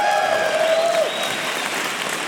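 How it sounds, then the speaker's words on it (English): Applause from an audience at WWDC 2018, Apple's developer conference, sounding as a dense, steady wash of clapping throughout with a few faint whistle-like tones at the start, without anyone speaking. "And they got pretty good applause in the developer conference."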